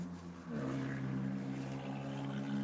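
A beat-up old modified Mitsubishi roars past loudly, its droning engine note swelling sharply after a moment and holding strong and close, with no talking.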